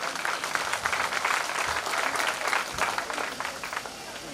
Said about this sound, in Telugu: అందరం కలిసి గట్టిగా చప్పట్లు కొడతా దేవుని మహింపరుద్దాం